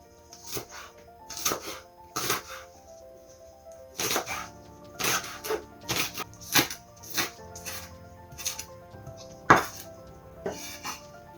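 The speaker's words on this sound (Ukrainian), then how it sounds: "Залишилось е, покришити тільки цибулю свіжу, молоду." A knife chopping fresh young onions on a cutting board, with bursts of quick, sharp, close thuds in irregular clusters, separated by short pauses and heard without any talking.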